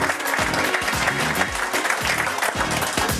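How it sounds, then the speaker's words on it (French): A crowd at a stage show applauds a performer being called up, producing a loud, continuous roar of clapping over a steady, thumping low beat. "sous vos applaudissements"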